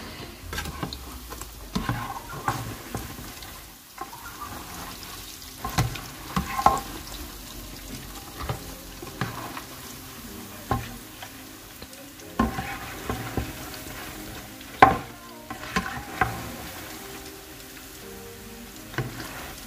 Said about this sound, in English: Anyway, let's continue frying.